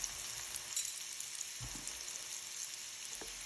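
Zucchini mixture dropped into a pan with two spoonfuls of hot oil, frying with a steady, moderately quiet sizzle and a few soft bumps as it settles, with no talking.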